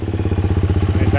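A motorcycle engine running on an adventure trip, with a rapid, even pulsing exhaust beat, close and loud, for a brief moment.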